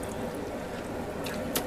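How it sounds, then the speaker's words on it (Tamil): Washed chicken pieces for a big batch of Chicken 65 are squeezed by hand, giving soft, close wet squishes and drips of water in a short, quiet burst. "இது மாதிரி நம்ம தண்ணியை நல்லா பிழிஞ்சு எடுத்துட்டா நம்ம போடுற மசாலாலாம் நல்லா ஒட்டும்"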